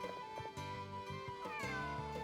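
A cat meows in the video game Suikoden V, a clear tonal game-sound mew that repeats a few times over steady background music, with no talking.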